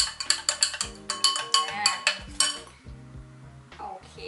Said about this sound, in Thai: คนให้เข้ากัน คนให้ละลายนะคะ